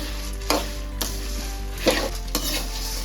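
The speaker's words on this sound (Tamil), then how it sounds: "மிளகாயும் நல்லா வறுபட்டு சவுண்டு வர ஆரம்பிச்சிருச்சு" Dal and dried red chillies dry-roasting in a pan for drumstick leaf podi, with a steady low sizzle and a few sharp stirring scrapes of a spoon against the pan.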